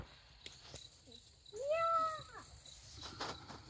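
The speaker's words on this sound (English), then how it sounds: "Little kitty cat here." A single cat meow, clear and fairly close, rising and falling over about a second, set against quiet outdoor night sounds on a farm with chickens and Great Pyrenees dogs.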